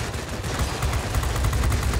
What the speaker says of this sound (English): But now I have to wait, and now I can shoot him.